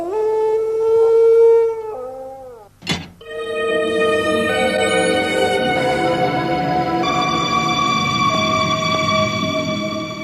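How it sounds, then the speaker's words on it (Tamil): A dog howls in long, wavering tones, then breaks off for a sharp bang, after which layered sustained tones, steady and fairly loud, carry on to the end. "என்னடா அது நாய் ஊழிடுறது?"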